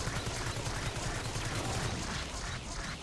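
Machine gun fire in Marvel Heroes Omega: a steady, rapid stream of muffled shots blurring into a dense rattle that runs the whole time amid busy game noise.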